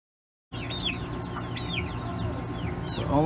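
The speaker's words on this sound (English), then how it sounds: "These here are big fatty white chickens." Several large white meat chickens cluck and chirp steadily close by, a busy flock murmuring with a low background hum throughout.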